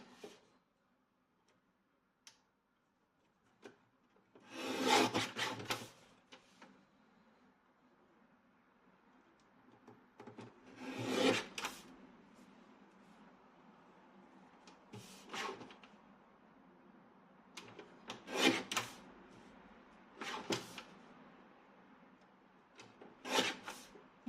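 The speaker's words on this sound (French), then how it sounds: "je vais découper le matage autour de ma carte" Mat board is cut around a card with a craft tool for a handmade album. Several short, separate scraping strokes come at intervals of a few seconds, close and fairly quiet, with near silence between them.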